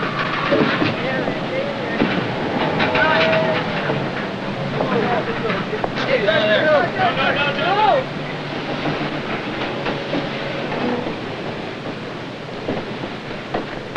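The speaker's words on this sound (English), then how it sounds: "Train come by" A train rolls past with a steady, rumbling clatter that fills the clip, loud and continuous, with a brief metallic screech partway through and faint voices underneath.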